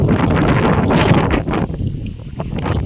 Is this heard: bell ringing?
no